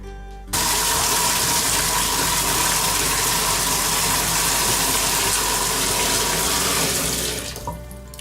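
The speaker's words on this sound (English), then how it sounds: "refill it with water, which I will do right now" Water gushes steadily from a tap, filling a bucket to refill a 2.5 gallon Top Fin aquarium, a loud, continuous rushing flow heard close up that starts abruptly and tapers off at the end.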